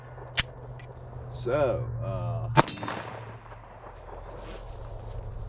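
Two sharp, loud Glock 19X pistol shots ring out a couple of seconds apart at a shooting range, with someone talking briefly in between.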